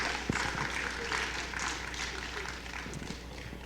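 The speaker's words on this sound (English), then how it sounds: "you give them a round of applause" Students at the University of Iowa REACH convocation applaud their support system, a soft, distant patter of clapping from a modest crowd with a few sharper claps early on, fairly faint and steady.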